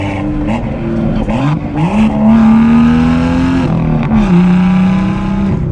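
A BMW M2 sports car engine in Sport Plus mode, with a six-speed manual, revs hard, its pitch climbing and dropping through several loud, close surges with no talking.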